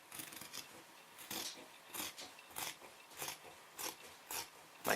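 Scissors snip through denim fabric being cut for a pair of jeans, a regular series of quiet, crisp cuts about every half second, close by and with no talking.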